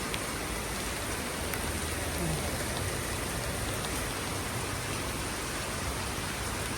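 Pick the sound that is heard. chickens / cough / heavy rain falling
heavy rain falling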